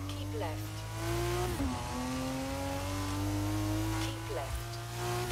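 A car driven in the video game Forza Horizon 3, engine revving and shifting through gears with a rising whine and a brief tire squeal, loud and close with a voice talking over it.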